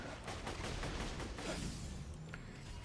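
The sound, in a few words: shotgun firing in a video game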